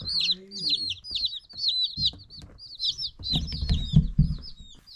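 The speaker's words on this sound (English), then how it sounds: "we could hear those little chicks there chirping away inside the box" Many small baby chicks peep continuously inside a box in high, rapid chirps, close by, with soft rustling and thumps underneath.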